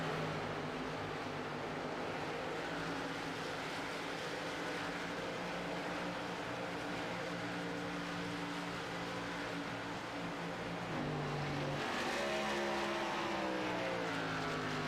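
Race cars circling the Chicagoland oval in an esports racing game, a steady whining engine drone with harmonic tones shifting as cars pass, a louder car sweeping in near the end, no talk.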